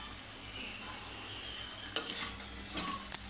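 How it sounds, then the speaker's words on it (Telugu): Beaten rice upma with turmeric and salt is stirred in a pan, soft scraping and light clinks of a spoon against metal, quiet and intermittent with a few sharper taps. "అని బాగా ఒకసారి కలుపుకోవాలి చూడండి ఈ విధంగా"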